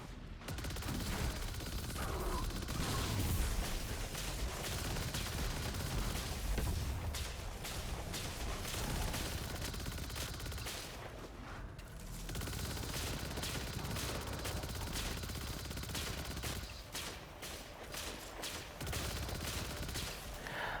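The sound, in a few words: volatile explosions going off in the video game Destiny 2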